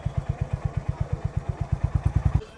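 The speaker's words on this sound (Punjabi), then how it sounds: "ਮੋਟਰਸਾਈਕਲ ਅਸੀਂ ਆਪਣਾ ਸਾਈਡ ਤੇ ਲਾਤਾ" A motorcycle engine idles with a steady, rapid putt-putt of evenly spaced thumps, close and fairly loud, beside a busy hilltop Hanuman temple forecourt crowded with parked vehicles.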